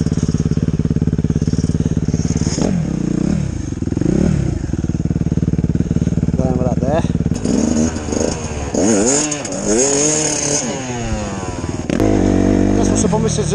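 An enduro motorcycle rides through winter terrain, its engine revving and rising and falling in pitch through repeated throttle bursts, loud and close, with a rider's voice heard at moments.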